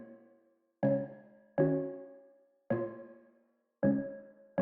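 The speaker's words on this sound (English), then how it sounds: "Just a simple pluck, goes the same chord" A simple synth pluck repeats the same chord in short bursts, each strike fading quickly before the next, clean and close with no voices.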